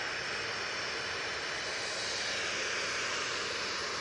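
A Ryanair jet taking off at Manchester Airport makes a faint, distant, steady engine roar with a hissing high edge, heard alone.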